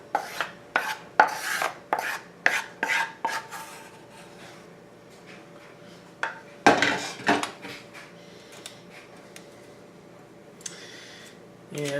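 A spatula or spoon scrapes and taps against a pan while a chocolate layer for Nanaimo bars is spread softly, giving a run of distinct strokes early, then quieter intermittent scraping.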